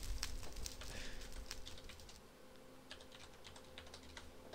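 Computer keyboard typing during a Minecraft session, a quick run of soft clicking keystrokes, close and fairly quiet, alone with a faint steady electronic hum underneath.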